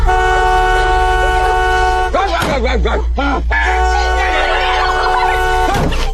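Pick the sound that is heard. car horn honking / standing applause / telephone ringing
car horn honking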